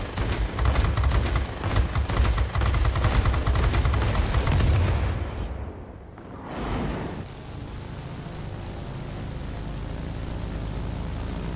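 Aircraft guns in World of Warplanes rattle in a loud, dense, rapid burst for about five seconds, then break off. A rushing wind and engine hum carry on afterward.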